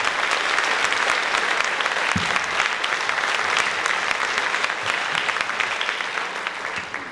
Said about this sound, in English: Can we get one more round of applause for that?